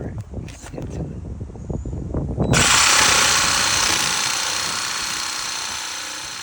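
A jigsaw cuts a board during an outdoor DIY build. A voice and some knocking come first, then a loud, steady buzzing cut runs continuously to the end.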